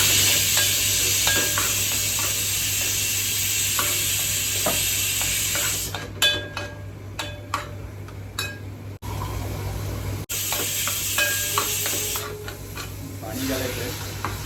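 Coconut paste masala with chili powder frying and being stirred in a pan for a pomfret fish curry: a steady sizzle with scraping stir strokes that grow more frequent in the second half.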